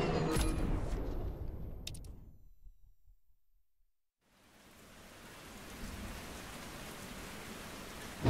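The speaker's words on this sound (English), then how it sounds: "braving a storm in it is something else" A rainstorm with thunder in the racing game The Crew Motorfest, heavy rain roaring loudly and fading to near silence before the downpour and rumbling return and build steadily.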